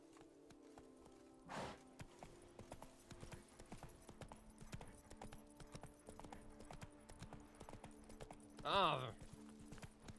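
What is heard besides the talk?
horse hooves clip-clop in video game Witcher 3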